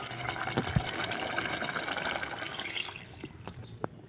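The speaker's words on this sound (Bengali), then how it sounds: "এখন দিয়ে দেবো পরিমাণ মতন ঝোল" Broth is poured into a pot of curry made with sarputi fish and green tomatoes, a steady close splashing flow with a few drips near the end and no talking.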